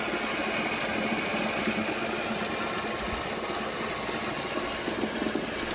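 Water rushing into an Aquasana Rhino whole-house filter system with UV as a valve is opened, a steady broadband hiss and flow noise holding constant throughout, fairly loud and close with no talking.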